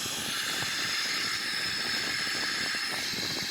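Boeing 777-300ER engines at idle thrust in a flight simulator, a steady broadband hiss and whine holding evenly with no change in pitch and no talking.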